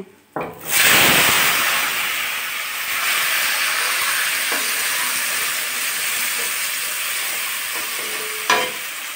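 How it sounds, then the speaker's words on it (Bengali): Chopped tomatoes dropped into hot oil, a sharp burst of loud sizzling that settles into a steady hiss of frying, close by, with a couple of faint clicks near the end. "এই যে ধুয়ে কুচি করা টমেটোগুলো তেলের ভিতর দিয়ে দিচ্ছি।"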